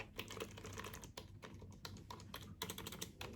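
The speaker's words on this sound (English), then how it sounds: "For this Xiaomi keyboard, listen to the difference." Steady typing on a Xiaomi computer keyboard, close up, with quick irregular key clicks and occasional heavier strokes, no voices.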